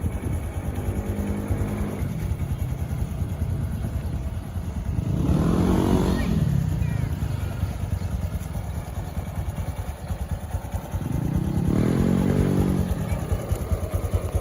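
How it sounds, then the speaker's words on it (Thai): A 2018 Honda Wave 125i motorcycle engine idles steadily and close by, with a low rumbling pulse and two brief swells as the throttle is blipped. "เสียงเครื่องยนต์ เดินนิ่งๆเลย"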